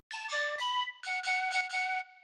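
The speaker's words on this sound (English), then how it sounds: "There's this really low in the mix flute layer I have beneath that sounds like this." A soft, low-in-the-mix synth flute layer from a remake, playing sustained breathy tonal notes in two phrases with a short gap between them, heard alone without talk.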